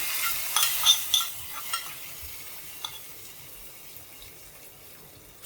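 Onions fried in coconut oil are tipped into an okra curry (vendakka mappas). Brief sizzling and stirring clatter comes at the start, then the sound settles into a quieter simmering hiss with no talking.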